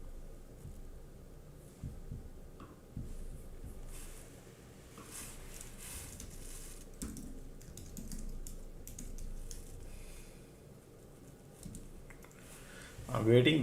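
Someone types on a computer keyboard in a series of soft, quick clicks that run all the way through. A voice is heard faintly in the background.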